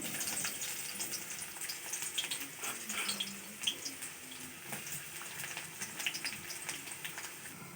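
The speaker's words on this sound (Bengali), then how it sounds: "পেঁয়াজ দিয়ে দিচ্ছি," Onions fry in oil with spices in a kadai, a faint uneven sizzle and soft crackle with scattered stirring scrapes and clicks, fairly quiet and without speech.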